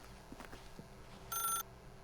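A brief electronic telephone ring in The Stanley Parable, a single buzzy trill lasting about a third of a second, after some faint soft thuds in a quiet room.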